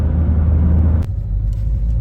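A second-generation pre-facelift Ford Focus turbodiesel car accelerating, heard from inside as a loud, steady low engine rumble that rises briefly before easing and carrying on.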